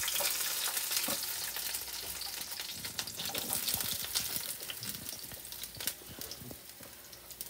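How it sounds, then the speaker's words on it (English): Vegetables frying in a pan for homemade cheesesteaks, a continuous crackling sizzle with frequent sharp pops and spatula scrapes, close and fairly loud, with no voices. "I'm going to sit there and put my vegetables in here, y'all. I want this to fry a little bit."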